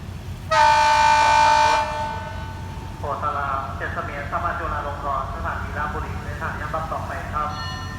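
A train horn blasts once loudly, then diesel locomotive 4202 rumbles and clanks as it slowly pulls out of Ban Pong station on a rainy day, with someone talking over the noise.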